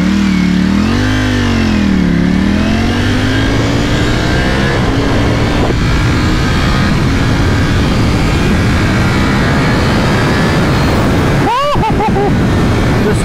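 A 2020 Ducati Panigale V4S motorcycle engine roars loudly and close as it accelerates, its pitch climbing and dipping through gear changes, with a brief sharp rise near the end.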